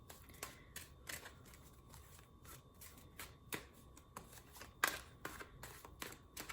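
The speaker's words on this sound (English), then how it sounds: "my chaos mode of shuffling doesn't really work too well anymore" Tarot cards being shuffled by hand, soft irregular riffles and slaps close by and quiet, with one sharper card snap in the middle.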